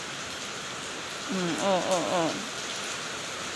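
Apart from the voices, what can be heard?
heavy rain falling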